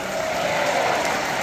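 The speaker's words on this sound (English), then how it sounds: "Can we make an applause that we are ready to volunteer for peace now?" An audience at a peace ambassador's speech applauds in a loud, dense, continuous burst of clapping with no talk over it.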